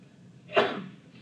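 One sharp, close sneeze bursts out mid-lesson in a math class, rising quickly and trailing off with a breathy tail over a quiet room.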